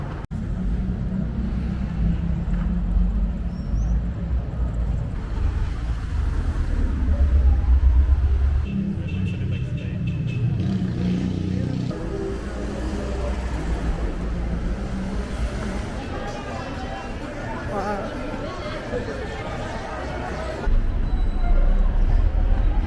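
Busy road traffic in Quito with a fast metro bus, heavy low rumble of passing vehicles and engines swelling and fading close by, continuous throughout with street noise.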